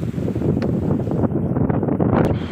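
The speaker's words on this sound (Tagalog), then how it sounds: "Lakas ng hangin" Loud wind over Laguna Lake buffets the microphone in a constant rumbling roar, with occasional brief gusts and rattles.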